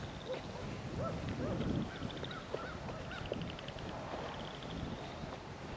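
Geese honk in scattered bursts on a small pond over steady outdoor wind noise at Lake Rebecca Park Reserve, moderately near, with a few overlapping calls early on.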